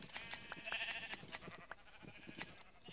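Sheep bleat several times in a video game, short repeated calls mixed with clicking game sounds, fairly quiet.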